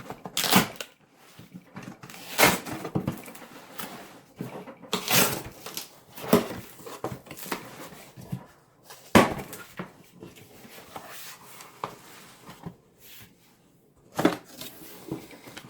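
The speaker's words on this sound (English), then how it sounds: "We'll tear the box open as best we can." Very thick, sturdy cardboard of a 2018 US Meal Cold Weather ration case being torn open by hand, heard as a series of close, sharp ripping and crunching bursts separated by short quiet gaps.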